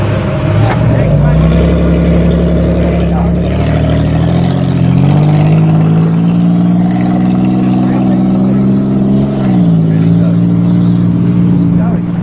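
A Ford truck with a 5.4 engine revs loudly and holds high throttle, spinning its tires in soil before a race, a droning engine note rising and falling close by with talk over it.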